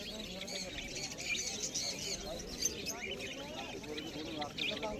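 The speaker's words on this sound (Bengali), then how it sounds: "এই খাঁচাটার মধ্যে কিছু জাবাস্পেরো আছে, হোয়াইট জাবাস্পেরো আছে, বিলাক জাবাস্পেরো আছে।" Caged java sparrows, white and black, at a busy bird market give faint, continuous high chirps and tweets, scattered over a dense murmur of background noise.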